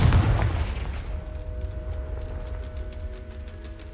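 A Confringo spell blast in a Harry Potter video game, a deep booming burst that fades into a rumbling decay with a faint ringing tail, loud and close.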